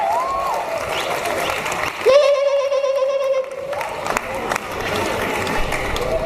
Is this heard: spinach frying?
no